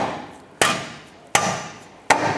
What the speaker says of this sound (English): We're gonna go ahead and use our dead blow hammer and we wanna try and tap this in.